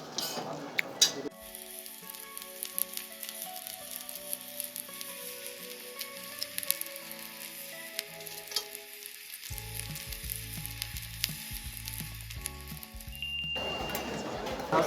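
Beef tripe (makchang) sizzling on a charcoal grill at a Daegu tripe restaurant, a steady faint crackle and frying hiss with occasional clinks, some low tones in the background.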